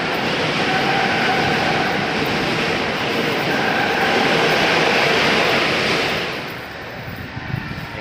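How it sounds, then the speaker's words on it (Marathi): A train rumbles past close by beside a skywalk, a loud, steady roar of wheels on rails that fades slightly near the end. "ट्रेनचा आवाज"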